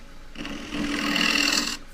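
A 9/16 bowl gouge cuts green casuarina wood on a spinning lathe, one continuous close rasping shear lasting under two seconds and swelling louder toward the end.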